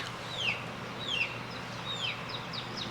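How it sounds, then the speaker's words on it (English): A small chick in a rural setting chirps in short descending peeps, about five spaced calls over a steady low background hum, fairly clear and near with no talking. "We got a little chirpy chick."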